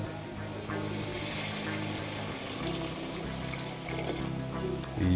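Water pours steadily into a pot of Igorot preserved meat with mung beans, a continuous rushing splash that swells slightly toward the end.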